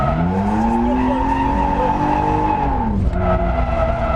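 A fully loaded BMW 330i drift car slides with a loud, sustained tire squeal whose pitch wavers and bends as the car settles, over a low engine drone, with no one speaking.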